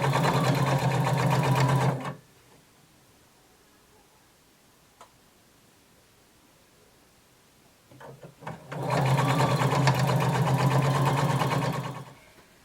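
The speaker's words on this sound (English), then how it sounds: "I'm going to sew all the way around my lining, close to the folded edge" A sewing machine stitches around the folded edge of a skirt lining in two bursts of rapid, even running, about two seconds each, with a quiet pause between them filled with faint handling clicks.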